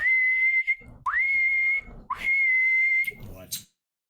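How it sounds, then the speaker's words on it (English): Several loud, sustained single-pitch whistle blasts, each starting with a quick upward swoop and holding steady, with short gaps between them and a faint low voice-like murmur underneath. "you hear a whistle in the background"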